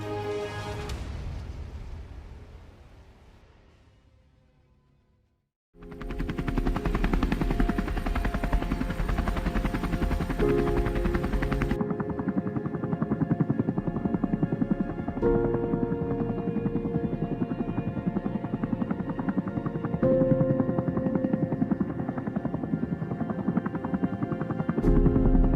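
A U.S. Navy Black Hawk helicopter drones loudly and steadily up close, its rotor and engine noise filling the scene for about twenty seconds after a brief quieter stretch.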